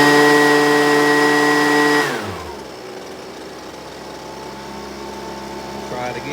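A Husqvarna 125BV leaf blower with a fault that keeps it from staying running. Its engine holds a loud, high steady whine for about two seconds, then drops to a lower, rougher idle that carries on to the end.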